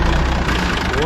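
A 1980 Autocar semi truck's heavy diesel engine idles steadily up close, a dense low rumble filling the whole second with no break.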